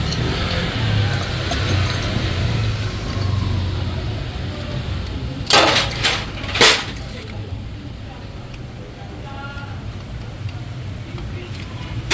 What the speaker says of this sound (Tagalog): So makita nyo wala naman siyang umuumpog pero may ingay yung makina